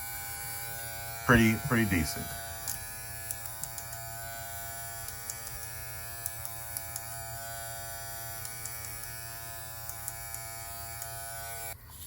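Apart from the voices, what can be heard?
electric hair clipper running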